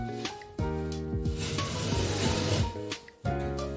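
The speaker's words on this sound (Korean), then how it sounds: "이 칼이 석고 대패가 붙어있는 칼이거든요. 석고 대패로 이거를 잘 넣어주면 반듯하게 나오죠" A gypsum board plane drawn along a plasterboard edge gives a dry, raspy scraping that runs in a few long strokes, close and fairly loud, with short pauses between passes.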